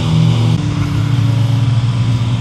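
A Suzuki Hayabusa motorcycle engine drones loud and close, its tone stepping up as it pulls harder, steady and unbroken with no voices.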